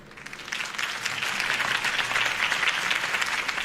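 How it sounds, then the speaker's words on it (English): A crowd applauds Harvey Dent's campaign speech in the Batman Telltale video game, clapping swelling in over the first half-second and holding as a dense, steady ovation at a fairly low level. "If only Mr. Wayne, my campaign's largest backer, could have heard that applause"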